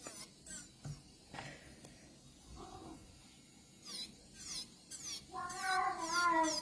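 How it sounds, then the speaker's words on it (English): A cat meows indoors several times during nail work, first in soft, scattered calls among small clicks and bumps, then in a louder, drawn-out vocal yowl close by at the end. "Sorry about my cat, he's being very vocal."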